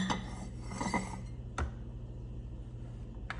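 Stirring an agar mixture in a pot with a utensil for mushroom growing: close scraping and rubbing strokes with several distinct metallic clinks, then quieter pauses before a final tap, with no speech.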